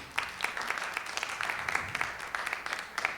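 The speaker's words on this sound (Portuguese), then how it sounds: "A gente tem o Bruno Zanoni, uma salva de palmas" A crowd at a panel on children's media production claps for panelist Bruno Zanoni, a dense, even patter of overlapping hand claps that keeps a fairly constant level, with slight voices mixed in.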